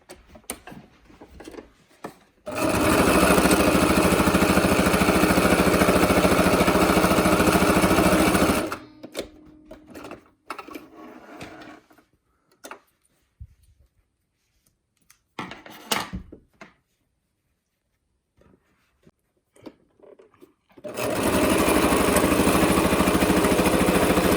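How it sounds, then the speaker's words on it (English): Sewing machine stitching a fabric face mask, loud steady motor whir in two long runs separated by quieter handling noises and pauses. "we'll go ahead and stitch that on both sides."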